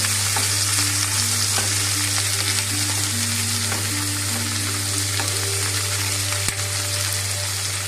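Chopped onion and slit green chillies for vermicelli upma sizzle loudly and steadily in a pan. A constant low hum runs underneath, and faint stirring scrapes come through now and then.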